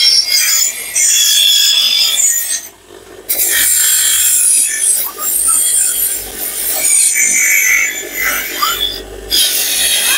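A machine polishes a Dokra metal craft piece in a village workshop, producing a loud, continuous, close abrasive grinding and rubbing hiss that dips briefly a few times as the piece is repositioned.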